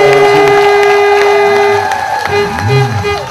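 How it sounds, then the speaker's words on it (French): A church congregation at a pastor's ordination applauding loudly over a sustained electronic keyboard tone, with a blended wash of clapping and voices. "Nous applaudissons très fort pour"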